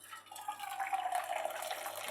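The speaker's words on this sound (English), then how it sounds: "I'm going to empty the kettle water into there." Hot water from a kettle pours into an oven dish, making a soft, steady trickling stream with a faint ringing tone, close and quiet, with no talk.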